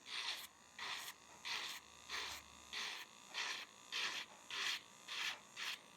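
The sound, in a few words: JD 400 nail sander running at 1000-2000 rpm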